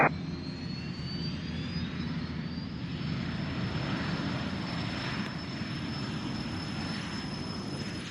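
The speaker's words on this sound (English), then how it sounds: "runway 21, clear for takeoff" A Cessna Citation business jet takes off from runway 21 at Scottsdale Executive airport, a steady, loud jet roar with a high whine that runs the whole time and builds slightly as it goes.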